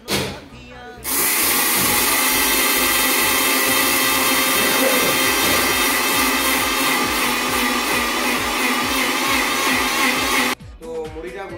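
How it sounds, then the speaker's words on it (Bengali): An electric mixer grinder whirs loudly and continuously while grinding puffed rice, with a gritty rattling churn throughout, starting abruptly after a brief moment and cutting off near the end. "প্রথমে মিক্সিতে মুড়িগুলি ঢেলে দেওয়া হলো"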